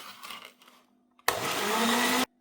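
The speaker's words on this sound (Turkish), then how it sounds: "Bunları bir mikserle geçireceğim." An electric mixer beating eggs and sugar whirs on suddenly, a steady loud buzzing drone for about a second, after some quiet clinking and handling beforehand.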